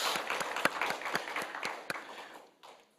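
A church congregation claps for its elders at a Sunday afternoon service, a short burst of scattered applause that thins out and fades within a few seconds.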